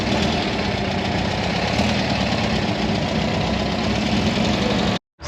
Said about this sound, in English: Let's hear that engine, Herbie.